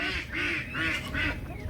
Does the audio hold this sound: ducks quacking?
yes